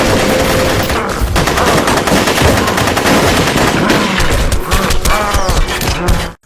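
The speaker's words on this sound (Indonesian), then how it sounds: "Lantas mereka pun segera menghujani psikopat Titan itu dengan peluru Ojon's Bullet" Sustained automatic gunfire from hunters fires bullets in rapid, loud, dense bursts, with rattling volleys continuing almost without pause and cutting off abruptly at the end.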